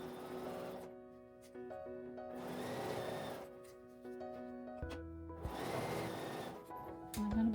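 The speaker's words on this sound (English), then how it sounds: "Now I'm going to sew around the top to attach them together." A sewing machine stitches around the top of a simple fabric bag, running in several bursts of steady mechanical whirring separated by short pauses, close and moderately quiet.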